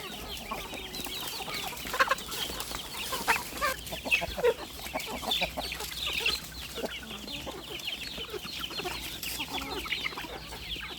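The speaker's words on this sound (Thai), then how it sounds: "ไก่ก็เริ่มหิวแล้วค่ะ" A flock of hungry farm chickens clucks steadily and nearby, overlapping calls with a few louder bursts throughout, and a faint crow may be mixed in.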